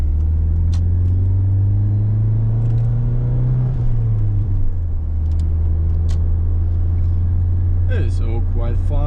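Engine of a Ford Sierra 2.0i Ghia pulling out to overtake on a road, heard from inside as a loud steady droning hum that rises and falls in pitch with revs, with road rumble throughout.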